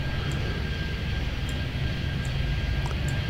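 Steady jet airliner engine rumble from the Airport Madness 3D airport game at Chicago O'Hare, with an Airbus A380 on the ground; a continuous, even drone with a faint high whine, no talk.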